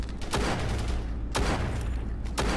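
Gunfire in the World War II shooter Honor & Duty: D-Day: three loud, sharp shots spaced about a second apart, each cutting through a steady low rumble of battlefield ambience.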